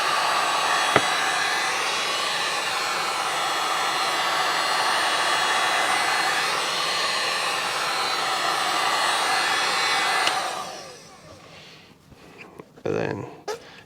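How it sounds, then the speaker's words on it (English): A heat gun blows a steady, loud roar of hot air onto a dyed disc for about ten seconds, then cuts off, leaving faint handling noises. "I'm going to go ahead and hit it up with the heat gun"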